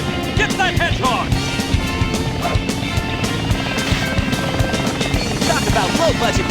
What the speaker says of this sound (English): He wasn't on a jet. He was on a helicopter.